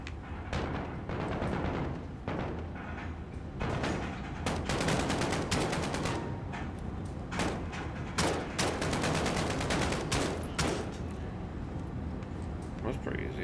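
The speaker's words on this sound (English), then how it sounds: "Who's shooting me?" Rapid bursts of gunfire in Call of Duty: Modern Warfare crackle loudly in repeated volleys of sharp shots, with a player talking between them.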